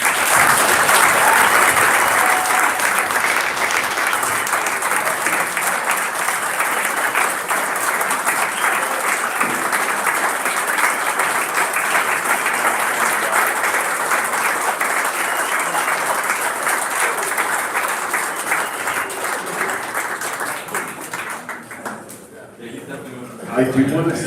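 Hall of Fame inductees at a high school athletic ceremony are welcomed by sustained, loud audience applause that holds steady for over twenty seconds before tapering off.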